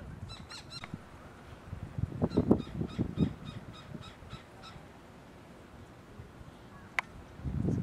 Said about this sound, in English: There's a bird up there, he's hidden around the back now.